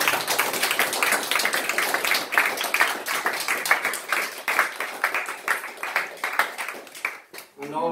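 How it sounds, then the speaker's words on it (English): A group breaks into sustained applause, with dense overlapping clapping that holds steady for several seconds before thinning out at the end. "she deserves a round of applause for that"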